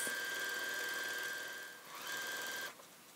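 Sewing machine running slowly during free-motion thread sketching, stitching parallel lines along the presser foot edge; a steady close motor whine with a rapid needle rhythm, briefly easing near the middle, then dropping off near the end.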